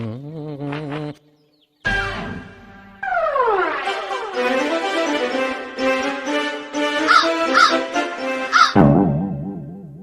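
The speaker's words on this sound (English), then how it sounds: "Have you not seen a crow before?" Crows caw loudly and repeatedly in a busy chorus, harsh calls overlapping close by, with a short gap of silence early on.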